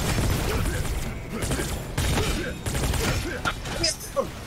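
Rapid bursts of gunfire from the video game Anvil Vault Breakers crackle in uneven clusters, with sharp reports and mechanical clatter, while a player's voice talks over the shooting.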